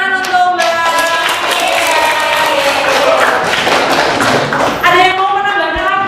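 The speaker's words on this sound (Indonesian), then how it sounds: "Tepuk tangan untuk Mbak" A classroom audience claps for a presenter who has just finished explaining eco-enzymes, a dense, steady burst of hand claps lasting several seconds with voices in the background.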